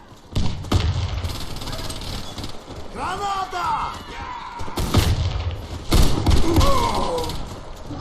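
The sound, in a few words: grenade explosion and gunfire in a video game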